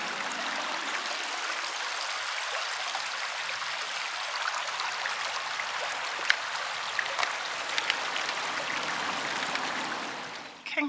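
A stream flows steadily on the Arran coast, an even broadband rush of running water with small trickling splashes, close and continuous throughout, with no talk.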